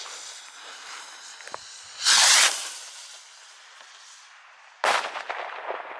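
Firework cake finale bursts, green, hiss and crackle steadily, with two loud whooshing surges a few seconds apart, heard from a distance outdoors at New Year.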